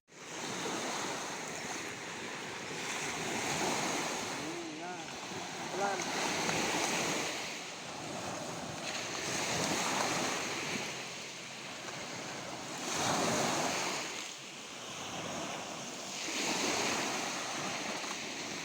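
Ocean surf rolls onto a clean beach in steady overlapping swells, a continuous broad wash of breaking waves with periodic surges, joined by some wind buffeting on the microphone.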